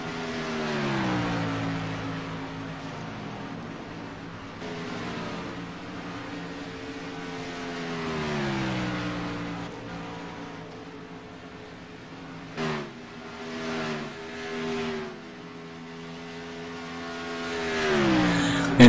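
Race cars roar around the Atlanta track in a Top Notch Series event, engines rising and falling in pitch as they pass in repeated waves, with a sharp crash-like bang near the end before more cars sweep by.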